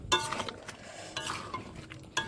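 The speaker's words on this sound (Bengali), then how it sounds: "এখানে দেখো কষাচ্ছি চিকেনটাকে।" Chicken being sautéed and stirred in a pan at home, with a few sharp clinks and scrapes of a utensil against metal in short bursts over a low sizzle, close and fairly quiet.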